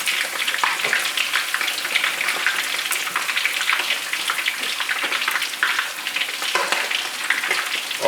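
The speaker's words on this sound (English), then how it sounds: "I'm frying my fish." Fish frying in hot oil while cooking a Nigerian red stew, a steady close crackling sizzle with dense spattering pops continuing without pause.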